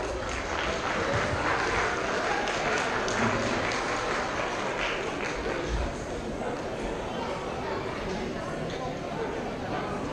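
An audience claps in welcome at a stage performance, steady dense applause filling the whole stretch with crowd murmur mixed in and a voice speaking over it.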